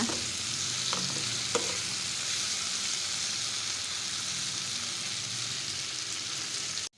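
Sambar ingredients with brinjal sautéing over a low flame, a continuous close sizzle and frying hiss with a few soft stirring scrapes early on, no talking.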